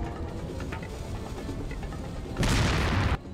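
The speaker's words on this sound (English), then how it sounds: "rocket launcher followed by a dynamite stick" Resident Evil 4 gameplay: a rocket launcher blast followed by a dynamite stick exploding, with scattered muffled impacts building to a loud, dense burst that cuts off sharply near the end.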